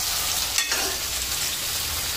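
Cut tomatoes sautéing in a pan with curry leaves for a Tamil fish curry, giving a steady, close sizzle and fry with a brief stir scrape partway through, no voices.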